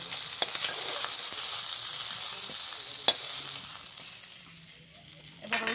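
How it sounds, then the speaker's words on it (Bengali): Pomfret fish frying in oil in a pan, a steady close sizzle and crackle with a few sharper pops, easing slightly before flaring up again at the end. "দেখো এই মাছগুলো ভালো করে ভেজে নিয়েছে"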